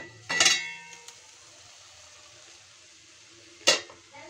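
A lid lifted off a kadai of cooked mola fish gives a bright metallic clank up close, followed by quiet room tone and a second short clink near the end.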